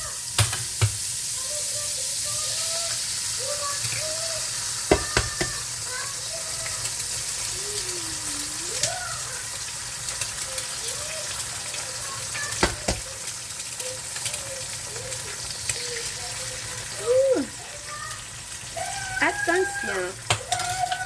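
Eggs fry in melted butter in a pan on lowered heat, giving a soft continuous sizzle with occasional clicks and pops, while a person talks over it intermittently.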